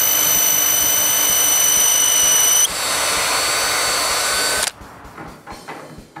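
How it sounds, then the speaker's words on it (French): A power drill with a 3/16 bit whines loudly and steadily as it bores a hole edge to edge through wood moulding. The pitch shifts partway through, then the motor stops abruptly and light handling noises follow. "je perce le trou de bord en bord avec une mèche de 3/16"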